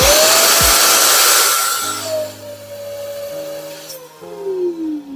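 VEVOR 4-in-1 injector extractor cleaner running at full suction, a loud steady motor roar and airflow hiss that fills the clip, easing slightly partway through with a shifting whine as the machine runs on alone.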